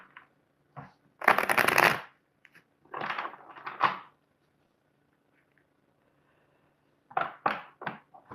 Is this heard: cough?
no